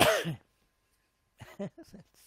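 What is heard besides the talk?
sneeze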